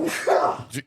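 A single close sneeze, short and sharp with a breathy burst, followed by a small trailing exhale.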